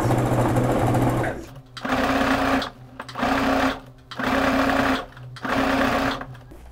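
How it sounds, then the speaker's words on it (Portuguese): Domestic sewing machine running a tiny topstitch right along the seam where a dress piece meets its facing, in four or five close, steady bursts of whirring stitching separated by short pauses. "E já vou costurar bem rente à borda de montagem aqui, um pesponto bem pequenininho bem na emenda entre a peça e o acabamento."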